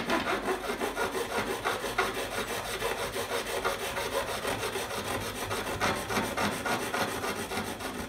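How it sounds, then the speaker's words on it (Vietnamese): A hacksaw cutting through the end of an Eagle Super fishing rod, its blade rasping in fast, even back-and-forth strokes, close and steady with no talking. "Đây là chiếc cưa sắt nhá."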